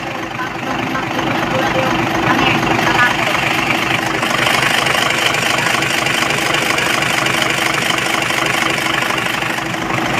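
A steady engine idles continuously at close range with a rough, knocking mechanical rattle and no pauses.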